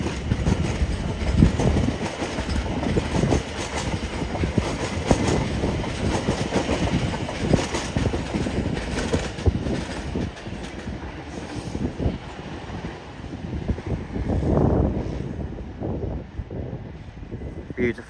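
Class 701 unit 701 001 pulls away from Clapham Junction toward London Waterloo, a steady rumble and wheel clatter running throughout with a brief swell near the end, close and fairly loud.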